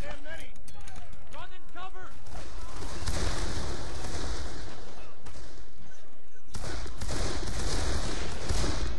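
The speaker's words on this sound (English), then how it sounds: "That's enough firing for me." Sustained battlefield gunfire from the video game Darkest of Days, a dense rolling fusillade with rifle and machine-gun bursts and distant booms, loud throughout, with shouting voices mixed in over the combat.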